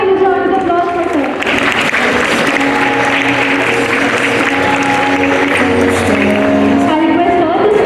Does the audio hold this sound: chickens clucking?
no